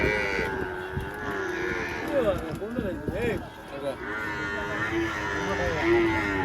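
Bulls and buffalo low and moo at a busy traditional livestock fair, with several long calls rising over a constant crowd murmur and people talking throughout.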